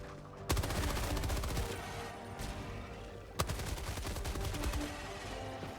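Machine gun firing in the Helldivers 2 video game after an update, a loud continuous stream of rapid automatic shots with a brief break in the middle before the burst resumes.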